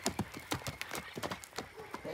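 Hooves of a ridden horse clip-clop in a quick, even gait at a slow, easy pace, fairly faint and close, with the rider talking over the steps.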